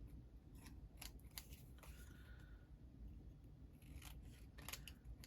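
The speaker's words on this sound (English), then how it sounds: "I'm going to trim it because I got white stuff everywhere" Scissors trim stray white edges off paper during assembly of a flip-out folio: a series of close, crisp snips in irregular bursts over a low background hum, with no talking.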